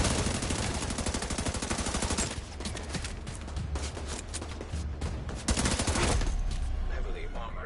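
Rapid automatic gunfire from the video game The Division 2, loud and continuous bursts of shots filling the scene, with a brief lull midway before the firing resumes just as dense.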